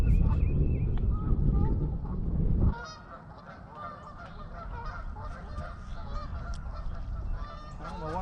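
Geese honk repeatedly out on the water at Lake Lanier, a busy cluster of nasal calls carrying across the lake after heavy wind rumble at the start, with someone talking over them.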